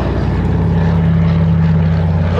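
Consolidated PBY-5A Catalina flying boat, a Canso licence-built version, with its piston engines and propellers droning loudly and steadily in a continuous close pass during an airshow display at Duxford.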